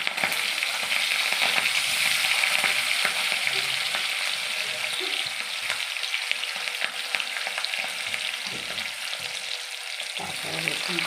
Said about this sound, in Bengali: এবার ওই মাংস ভাজা তেলের মধ্যেই আমি প্রথমে পেঁয়াজ দিলাম।